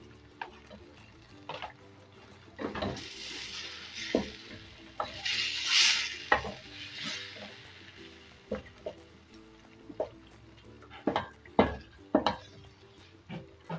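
Cumin seeds added to a hot pan with chilies for shahi chicken, with sizzling bursts and frying hiss broken by repeated scrapes and taps of a spoon stirring against the pan.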